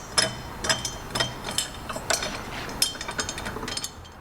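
Ratchet snugging the header nuts on an Akrapovic exhaust for a Vespa Sprint 150 scooter, a run of quick, light metallic clicking bursts repeating close by in several short spells, with no talk.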